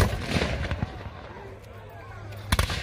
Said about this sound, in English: As this firefight continues, you can notice less than half of the muskets are going to be firing